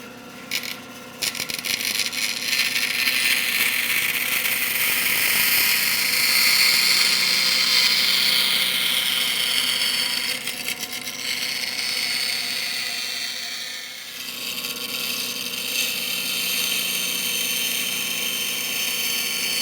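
A power tool cuts curves in wooden nightstand parts with a continuous, loud, buzzing whine that runs for almost twenty seconds and briefly dips in strength before carrying on.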